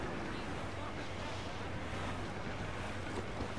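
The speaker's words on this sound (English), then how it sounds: "Dark skies and rough seas there!" Wind and rough sea waves in Assassin's Creed IV Black Flag make a dense, steady roar of gale and surf around a sailing ship, loud and unbroken throughout.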